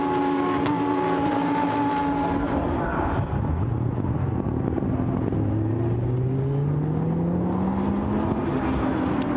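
Lamborghini Super Trofeo race cars roar past at Silverstone, engines loud and sustained, with rising and falling pitch as cars accelerate and shift through a sequence of corners.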